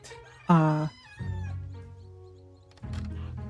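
A cat in the farming game Echoes of the Plum Grove gives one clear, close meow, followed by a low steady hum and a second softer sound near the end, with a voice speaking lightly around it.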